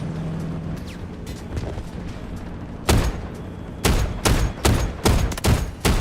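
An artillery barrage strikes in the shooter Delta Force. After a few quiet seconds of low ambience, about eight loud, sharp blasts land in an irregular cluster, close and heavy.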